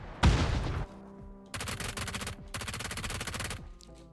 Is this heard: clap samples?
no